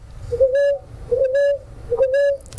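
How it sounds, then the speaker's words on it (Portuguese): A ruddy ground dove calls three times in a steady rhythm, each a clear, close, whistled coo rising then holding, heard alone over faint background hiss. "essa é rolinha fogo, é, que a gente chama de feijão"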